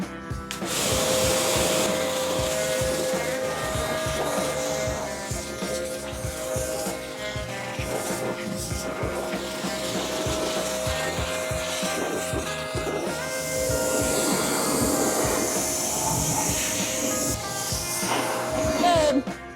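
A pressure washer sprays water in a steady hiss with a constant motor whine, while people talk and laugh over it throughout.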